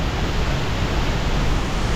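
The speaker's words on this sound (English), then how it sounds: "Now that's a waterfall." A powerful waterfall in Laos roars as a steady, loud broadband rush of falling water, dense and unbroken from start to finish with no voices.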